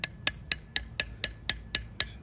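A steel chisel struck on a limestone plinth, making repeated passes to deepen a carved line: ten sharp, evenly spaced taps, about four per second, close and crisp, with no voices.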